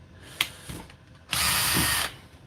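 Milwaukee power drill backing screws out during a budget drill set restoration, a brief ratcheting whir followed by a louder sustained spin of under a second, close up with no talking.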